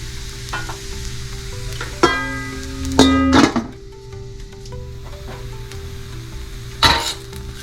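Vegan yakisoba noodles sizzle in a covered pan, a steady fry broken by a few sharp metallic clanks and knocks of the lid and utensils, close and fairly loud, with no talking.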